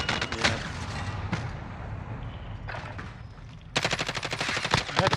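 Video game gunfire in a live-streamed shooter, rapid automatic bursts of loud sharp shots with a pause between volleys, then a dense fast burst near the end, no speech over it.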